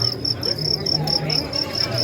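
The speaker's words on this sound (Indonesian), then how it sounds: "jangkrik ini mengingat masa kecil dulu" Crickets chirp in a steady, regular high pulse close by during light drizzle, with faint low background noise underneath and no talking.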